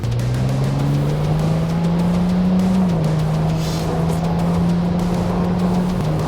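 Ferrari 296 GTS, an 830-horsepower V6 plug-in hybrid spider, driving around a circuit with its roof closed, a loud steady engine drone rising slowly in pitch over constant road and wind noise, heard from inside the car.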